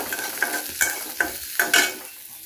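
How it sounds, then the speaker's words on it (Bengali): Onions frying in oil in a pan for biryani, close sizzling with a quick series of stirring scrapes about every half second, no voices. "এখন পেঁয়াজগুলো একটু সুন্দর করে ভেজে ভেজটার মতো করে একটু"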